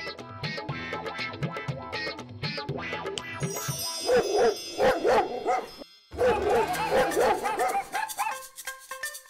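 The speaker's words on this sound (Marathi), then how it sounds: "ही तर कुत्री भुंकतायत." Dogs bark repeatedly in quick, overlapping bursts, loud and close, with a short pause before another flurry of barking.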